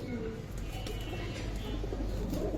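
Pigeon coos softly and repeatedly at close range beneath a low background hum, with faint human voices nearby.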